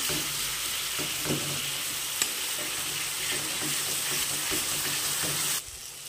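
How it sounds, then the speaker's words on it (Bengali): Spice masala sautéed in a wok (kadai) for a Bengali chicken ghugni, sizzling steadily with scraping stirs and small splashes of water added to stop it sticking; continuous close frying, dropping off near the end. "এখানে হালকা হালকা জল দিয়ে দিয়ে ব্যাপারটাকে ভালোভাবে কষিয়ে নিচ্ছি, যাতে কড়াইয়ের নিচে লেগে না যায়।"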